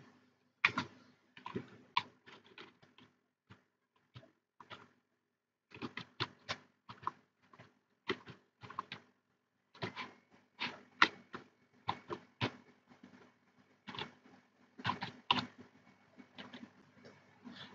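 Python code is typed on a computer keyboard in quick, irregular bursts of light key clicks, with short pauses between runs of keystrokes, close and fairly quiet.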